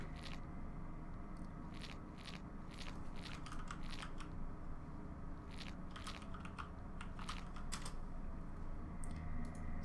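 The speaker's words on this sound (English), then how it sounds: "That was the shuffling from the other game" Quick bursts of crisp card riffling, flicking and clicking sound in clusters over a steady low hum, with short pauses between shuffles.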